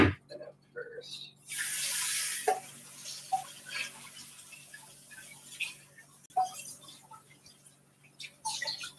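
Water runs from a tap while raspberry jam equipment is rinsed, a steady broadband hiss for a couple of seconds, then smaller splashes, drips and clinks of utensils in a sink.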